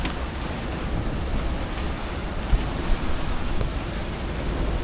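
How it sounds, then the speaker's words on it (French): Steady rushing of strong wind and big breaking sea waves off Sicily, a constant broad roar with a couple of small thumps, heard from close by. "Et en plus il y a des grosses vagues."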